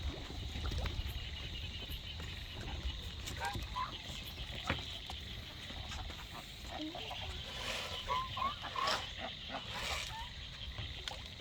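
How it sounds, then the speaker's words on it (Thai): Ducks waiting to be fed at a farm give short, scattered quacks at a low level. Quiet voices talk underneath, and there is general outdoor background noise. "ทางนี้บ้างทางนี้บ้าง เป็ดมันรอกินอยู่"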